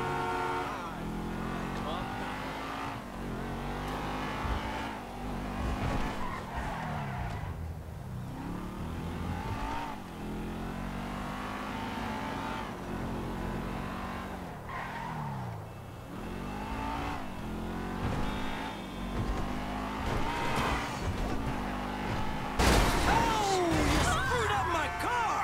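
A car in GTA V drives at speed with a rising and falling engine note, shifting pitch repeatedly across the stretch, with a harsh burst near the end as it skids, all continuous and close.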